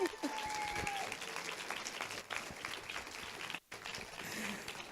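An audience at a corporate talk claps to welcome a speaker to the stage, a steady, moderately loud patter of many hands with a brief dip partway through, and a voice faintly audible at the start.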